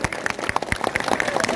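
A crowd at a political campaign rally for a council candidate claps hands in scattered, sharp, uneven bursts, fairly close, with some voices mixed in beneath the clapping.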